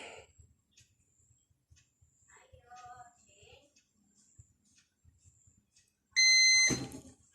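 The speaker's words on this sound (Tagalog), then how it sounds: "Ayan, tumunog na. So ibig sabihin tapos na siyang mag-print." Heat press timer on a DTF (direct-to-film) t-shirt printing setup sounding a loud, shrill electronic beep near the end, after quiet stretches with soft handling noises and faint room sounds.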